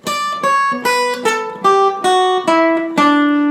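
A clean, plucked guitar plays a steady descending run of about eight single notes, each ringing briefly before the next, close and clear.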